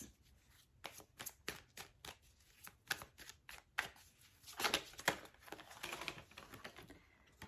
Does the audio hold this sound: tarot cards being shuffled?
yes